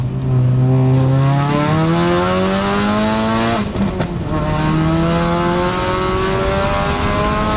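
Turbocharged Ford Focus RS making about 410 wheel horsepower, with a Turbosmart wastegate, revving loudly and climbing through gears, a brief lift with popping from the exhaust, then pulling hard again, close and continuous.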